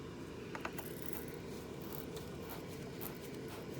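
A battery terminal cleaner brush twists on a car battery terminal with faint, low scraping and a few small clicks over a steady background rumble.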